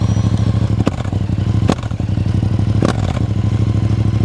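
A Yamaha Tracer 7 two-cylinder motorcycle runs with a steady, loud, throbbing engine note, broken by a few sharp clattering knocks, with no talking.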